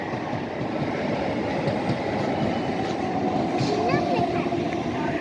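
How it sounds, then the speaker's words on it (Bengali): A train pulls into a large station with rumbling wagons, rhythmic clatter and faint high wheel squeals, heard close up while people talk over it. "এই দেখো ট্রেন একটা ঢুকে গেছে।"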